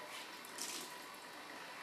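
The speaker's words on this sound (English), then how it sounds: "You run it under the water, wring it out real well" A washcloth held under a running kitchen tap, with a brief, soft, steady hiss of flowing water.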